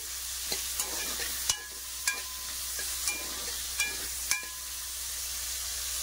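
Tomato and onion frying in a pan while a curry is being prepared, a steady soft sizzle with occasional sharp clicks and scrapes of stirring, heard alone at close range.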